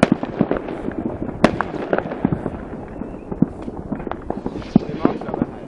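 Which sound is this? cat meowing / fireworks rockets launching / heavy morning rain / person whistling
fireworks rockets launching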